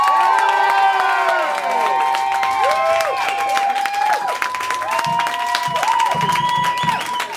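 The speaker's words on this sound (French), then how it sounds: "je voudrais qu'on applaudisse plus fort" A crowd at a metal band contest semi-final cheers and applauds, whistles and shouts rising over steady clapping, loud and close throughout.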